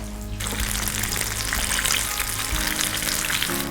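Fish fries in medium-hot mustard oil with a dense, steady sizzle and crackle, close and loud, starting just after a short opening and holding evenly throughout.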